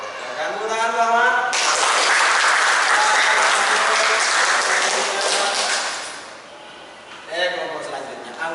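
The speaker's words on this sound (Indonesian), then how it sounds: "Silakan tepuk tangan Muhammad." A class of students applauds a presenter, a burst of clapping that starts sharply, holds loud and steady for about four seconds, then fades out, with a teacher's voice speaking before and after.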